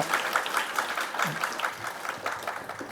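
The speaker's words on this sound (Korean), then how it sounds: "마지막으로 박수 한 번 더 부탁드리겠습니다" Lecture audience of students clapping at the close of a special talk, a dense patter of many hands with a few sharper individual claps standing out, moderately loud throughout.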